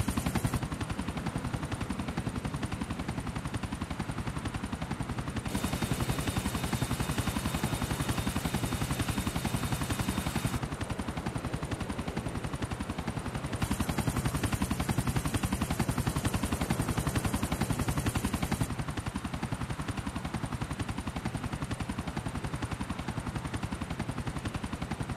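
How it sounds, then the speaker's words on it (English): Steady, loud rotor drone of a helicopter flying in GTA4 on a Higgins Helitours tour over South Algonquin, continuous throughout with shifts in engine tone and no speech. "It sure is great to be driving a chopper for fun rather than to mow down a village full of hostiles."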